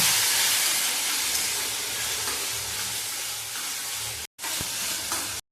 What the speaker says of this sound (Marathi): लसूण मिरची पेस्ट टाकू, मग लाल करून त्याच्या तेलात चांगलं परतून देऊ